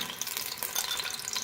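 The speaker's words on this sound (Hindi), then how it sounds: "पहले हम प्याज को फ्राई करेंगे।" Chopped onion frying in hot oil over a medium flame, a steady close sizzle with fine crackling and spitting that holds evenly throughout, with no voices.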